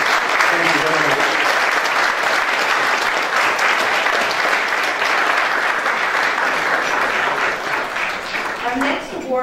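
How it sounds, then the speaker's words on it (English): A banquet audience at a chamber of commerce annual dinner breaks into loud, sustained applause that fills the room steadily for several seconds before beginning to thin out. "One more round of applause."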